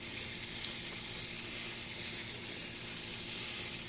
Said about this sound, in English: you're going to get a steady stream out of the thermal block, as you can see. Steam coming out perfect.